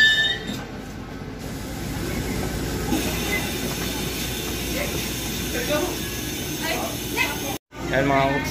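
Interior of a moving train in Taiwan near Banqiao, New Taipei, with a steady rumbling wheel-and-rail drone and faint squeals, while a voice talks over the ride.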